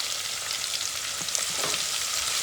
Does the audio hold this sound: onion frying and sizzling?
yes